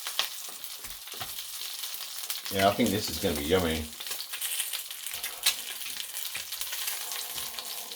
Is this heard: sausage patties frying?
yes